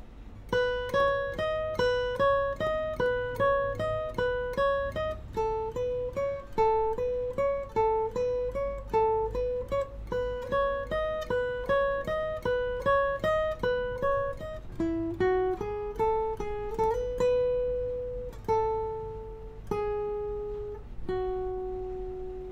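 Guitar playing a pre-chorus passage of chords and a plucked melody, a steady run of clear picked notes climbing and repeating, ending in a few slower ringing notes, alone and moderately quiet.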